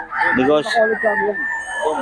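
A rooster crows loudly and close by, with chickens clucking and people talking in the background.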